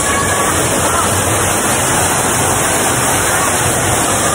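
Busay Falls in Malilipot, Albay, a dense, constant roar of falling water filling the whole clip, loud and close with no breaks.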